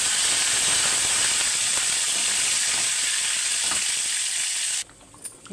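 Dried red chillies and curry leaves sizzle loudly in hot tempering oil for a wakkaya pappu, a dense steady crackling hiss that suddenly cuts off near the end and leaves faint clatter.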